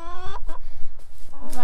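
Backyard chickens clucking and squawking up close, a few loud harmonic calls at the start and end with scratchy activity and a low murmur in between.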